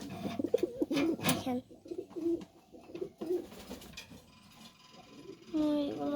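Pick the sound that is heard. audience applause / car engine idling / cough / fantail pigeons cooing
fantail pigeons cooing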